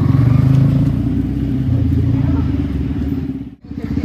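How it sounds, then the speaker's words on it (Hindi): Kawasaki Ninja 1000 superbike engine running close and loud, a low throbbing idle with rising revs that drops out abruptly near the end before resuming. "अपनी न्यू सुपर बाइक निंजा 1000"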